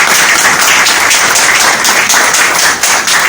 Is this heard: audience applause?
yes